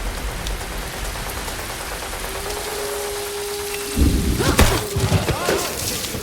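Heavy rain pours in a movie scene with gangsters, a dense continuous hiss, then a sudden thud and clatter as the downpour swells louder.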